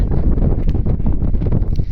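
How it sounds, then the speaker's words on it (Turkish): Steady low wind rumble buffeting the microphone throughout, loud and continuous with no pauses, outdoors at a children's football training session. "Rüzgar esiyor"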